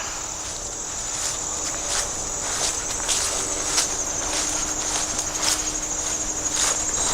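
Cicadas in a grassland preserve keep up a steady, high, shrill buzz, pulsing at regular intervals throughout with no other sound.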